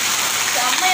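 Steady rain pouring down in a village after a long dry spell, a continuous close hiss of falling water that holds an even level throughout without pause.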